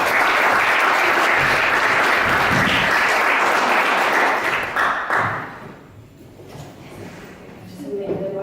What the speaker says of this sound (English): we'll also give her an excellent round of applause.